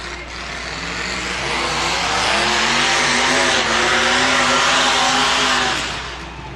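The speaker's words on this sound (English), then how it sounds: "I hear the V8s warming up for this next event." V8 cars at a destruction derby figure-8 race roar together, one engine swelling louder as it accelerates, then fading, with no talking.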